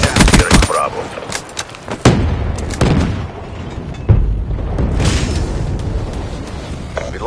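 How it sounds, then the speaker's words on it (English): A grenade blast in the Black Ops 3 multiplayer beta, a loud booming burst among dense, overlapping gunfire and explosions, with voices calling out over the battle. "Grenade!"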